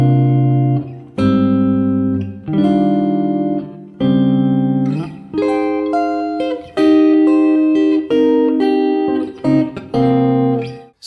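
Guitar playing a full song verse as a steady sequence of sustained, ringing chords and arpeggiated notes, loud and close, alone without any voice.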